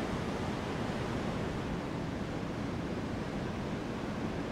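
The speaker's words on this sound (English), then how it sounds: "See the other view of the water flowing through." Water rushes through an old dam in a steady, dense roar, loud and continuous without pauses or other sounds.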